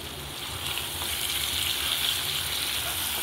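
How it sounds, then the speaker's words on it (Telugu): Chicken frying in a pan with garam masala and coriander leaves, a steady, close, loud sizzle running continuously without pause. "చికెన్ ఈ స్టేజ్లో ఉన్నప్పుడు పక్కనే ఉండి కలుపుతూ వేయించుకోవాలి బాగా"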